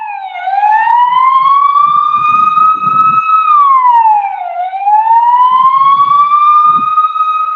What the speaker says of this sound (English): I got some sirens coming